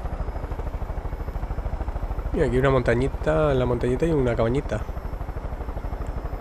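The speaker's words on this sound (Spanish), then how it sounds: "Pues ahora voy a coger el helicóptero." A helicopter in the video game Far Cry 5 flies with a continuous rapid rotor thump, loud and close, while someone talks over it partway through.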